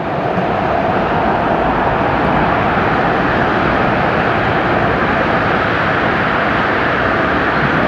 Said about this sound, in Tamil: இந்த கப்பல் போகுது